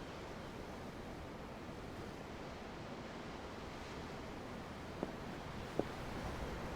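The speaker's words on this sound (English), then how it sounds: "The waves. They help me think." Ocean waves in the game Tales of Arise, a steady broad wash of surf and wind with two faint clicks near the end, no voices.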